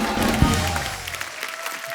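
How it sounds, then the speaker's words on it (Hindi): Studio audience applause for the performers on a comedy talk show, a broad wash of clapping that is strongest at the start and gradually thins out, with a faint low voice briefly underneath. "एक बार जोरदार तालियां हमारे सारे कलाकारों को लगे"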